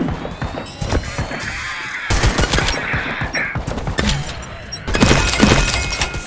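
Rapid gunfire in the shooter game LEAP, loud bursts of automatic shots with shattering impacts, broken by brief pauses and then resuming heavily toward the end.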